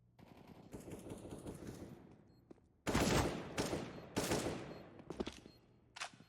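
Rapid automatic gunfire in a Counter-Strike match, with sharp bursts and single shots cracking out in clusters over a low background, loud and close, with no one speaking.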